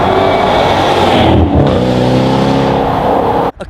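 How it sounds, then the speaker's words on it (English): A loud, rumbling V8 roar from a Land Rover Defender 90 P580 fitted with a Quicksilver stainless sport exhaust, holding strong on a country road before cutting off abruptly. "A Quicksilver V8 Defender, the first in the country?"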